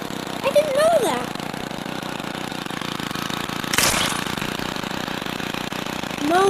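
A lawn mower engine in a video game drones steadily throughout at moderate loudness, with an excited voice rising over it now and then.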